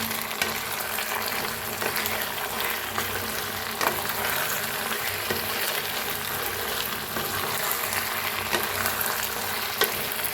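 Chicken in masala frying in a pan, a dense, constant loud sizzle with frequent stirring scrapes and small ticks, close and steady throughout with no talking.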